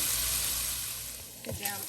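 Potato pieces frying in a pan, a close, steady sizzle that fades slightly near the end, followed by a brief scrape or clatter.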